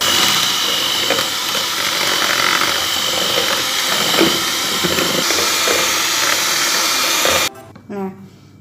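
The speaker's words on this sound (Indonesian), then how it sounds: "sekarang kita aduk dengan mixer" An electric kitchen mixer hums and whirs steadily while stirring batter for dadar gulung pancakes, a close, continuous buzz that stops abruptly near the end, followed by a brief voice.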